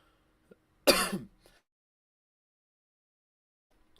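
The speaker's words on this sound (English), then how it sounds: "Sorry, got the coughs all of a sudden." A single sharp throat-clearing cough near the mic, brief and forceful, followed by near silence.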